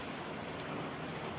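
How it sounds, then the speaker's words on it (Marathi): Heavy rain falls in a steady, dense hiss without a break, a continuous wash of drops on surfaces, moderately loud with no voices. "सारखा पाऊस पडत आहे"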